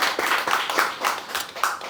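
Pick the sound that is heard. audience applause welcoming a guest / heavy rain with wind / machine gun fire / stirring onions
audience applause welcoming a guest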